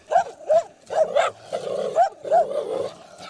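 Dogs bark repeatedly in short yapping bursts, fairly close, with a few whiny yelps mixed in and no speech.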